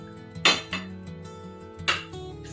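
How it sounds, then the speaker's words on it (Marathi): A metal pan set down on a gas stove, two sharp clanks about a second and a half apart with lighter knocks between them, close and alone. "चला तर आपण गॅसवर पॅन ठेवून घेऊया"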